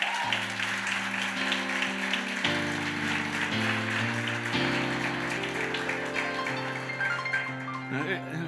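A church congregation claps during a sermon, a dense patter of applause over sustained organ or keyboard chords, with a voice faintly present.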